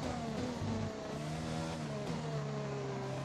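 Formula 1 car engine in the F1 2020 racing game, revving steadily at high pitch with shifting tonal harmonics through gear changes, loud and continuous for a few seconds with no talk.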